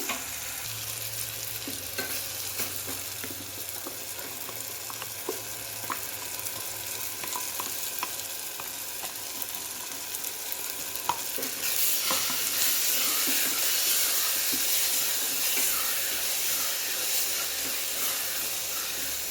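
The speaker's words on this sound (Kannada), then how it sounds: "ಹಸಿ ಸ್ಮೆಲ್ ಹೋಗೋವರೆಗೂ ಇದನ್ನ 1-2 ನಿಮಿಷ ಹುರ್ಕೊಳ್ಳೋಣ ಆಯಿಲಲ್ಲಿ" Continuous hissing sizzle of masala spices frying in hot oil with softened tomato, close up, with light stirring scrapes and the sizzle growing brighter near the end.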